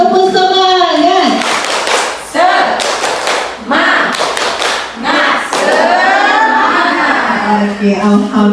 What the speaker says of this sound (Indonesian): Boleh dong kita tepuk semangat sekali, tepuk semangat.